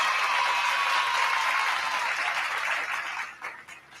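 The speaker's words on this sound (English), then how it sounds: "Clap it up for these two powerhouses." An audience breaks into sustained applause at a live talk, a dense wash of clapping that holds steady and then thins out toward the end.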